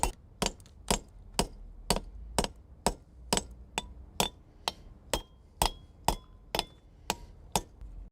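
Sharp, evenly spaced ticks and snaps repeating about twice a second, crisp and fairly faint, like stone cracking and snicking on its own.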